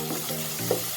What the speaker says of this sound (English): Once the onion turns slightly golden brown, add ginger garlic paste